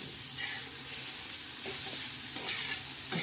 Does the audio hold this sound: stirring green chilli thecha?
yes